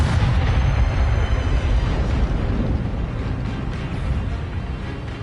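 A fire spell explosion in a Harry Potter video game: a loud, sustained roaring blast with deep rumble and crackling, close and continuous, slowly easing off over the few seconds.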